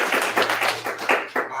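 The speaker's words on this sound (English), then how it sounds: "I want all y'all just clap it up for yourselves." A seminar audience claps for themselves, a brief burst of fairly close, irregular hand claps and applause lasting a moment and fading at the end.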